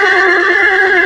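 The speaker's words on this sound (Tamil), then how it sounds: "இந்த குதிரை தான் பார்த்தீங்க அப்படின்னா வந்துட்டு அந்தியூர் சந்தையில் ஃபஸ்ட்டு ப்ரைஸ் அடித்த குதிரையாம்" A prize-winning horse on a farm, a first-prize winner at the Anthiyur market, lets out a loud, close, sustained whinny with a strained, harmonic tone that holds steady throughout.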